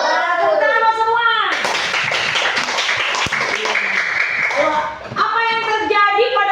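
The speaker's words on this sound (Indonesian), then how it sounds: "Tepuk tangan semua." Schoolchildren in a classroom burst into a loud round of hand clapping for about three and a half seconds, with kids' voices chattering before and after it.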